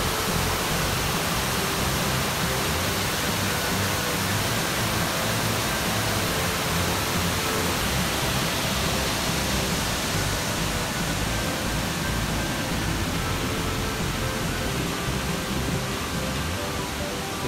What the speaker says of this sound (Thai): น้ำแรงครับ ถ้าน้ำตกลงมา ลดหลั่นเป็นขั้นก็ สูงพอสมควรครับ